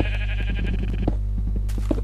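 Sheep in the video game Minecraft bleat in short, repeated calls over a steady, droning game background hum, with a dull thunk partway through.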